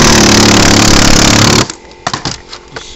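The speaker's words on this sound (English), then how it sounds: "this is air hammer" A loud, continuous pneumatic air hammer roars for over a second while skinning boards, then cuts off, followed by a few scattered clanks and taps.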